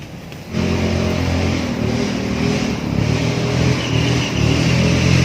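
A motorbike or car engine is revved hard with the throttle opened, rising suddenly after a brief quiet start and holding a loud, rough roar near the microphone.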